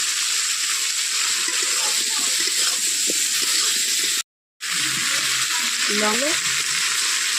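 Potatoes and Malabar spinach stems fry in spiced oil, a loud continuous sizzle with a brief silent gap partway through and someone speaking over the frying.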